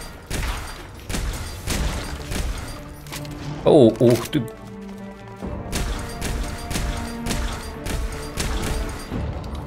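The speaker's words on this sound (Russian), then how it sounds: "3 выстрела в голову из дробаша, и только тогда он умер?" Shotgun blasts to a zombie's head in the video game Zombotron, a quick cluster of loud bangs with smashing impacts over game music and effects, while someone talks excitedly around them.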